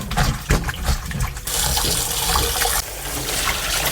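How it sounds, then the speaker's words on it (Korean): Blanched seaweed is scrubbed and rinsed in cold water, making loud, continuous splashing and rushing water that swells into a steady, fuller pour partway through, close by and without voices. "이렇게 건진 미역을 찬물에 한번 바락바락 문질러서 깨끗이 한번 헹구세요"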